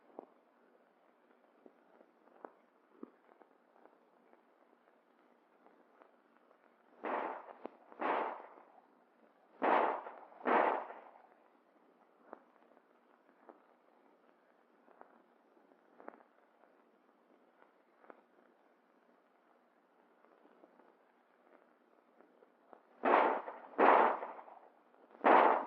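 US Army M1911 pistols fire at 25 yards from kneeling, heard as two clusters of sharp reports, three shots each, fairly distant and dull over a faint narrow-band hiss typical of an old recording.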